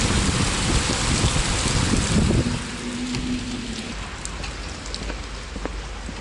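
Heavy rain falls steadily during a flood in Kalisz, Poland, a loud dense hiss close by, with a low hum partway through and no speech.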